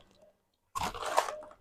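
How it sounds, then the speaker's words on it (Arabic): Crunchy coconut snack with a sweet-and-sour, slightly salty flavour, bitten and chewed close up after a moment of silence, giving a loud, wet, crackling crunch that continues steadily to the end. "مجرد جوز هند بس مقرمش"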